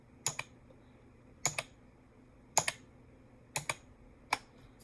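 Keys clack on a Redragon computer keyboard in five short, evenly spaced bursts of two or three quick strokes each, crisp and near in an otherwise quiet room.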